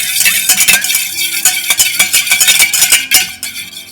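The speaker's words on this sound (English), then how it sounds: "And then we will just lightly whisk this." Liquid mixture with vanilla extract and cinnamon being whisked in a bowl for a cinnamon coffee cake, loud close rapid rhythmic clicking and tapping of the whisk against the bowl, continuous, no talking.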